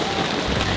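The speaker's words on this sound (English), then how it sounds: "It's nice warm rain." Warm rain falling steadily outdoors in Singapore, a dense, even hiss of drops striking surfaces with a low rumble underneath, continuous and fairly loud with no voices.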